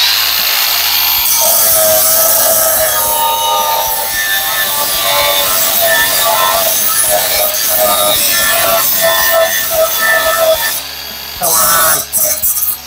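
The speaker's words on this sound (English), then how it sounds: "To cut the stud with the cutoff wheel." A cutoff wheel grinds through a metal stud on a vintage camper exterior, a loud, sustained whine and rasp that runs steadily for several seconds before breaking off into short bursts near the end.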